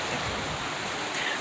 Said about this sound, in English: If you hear in the background, that's rain, and it just started.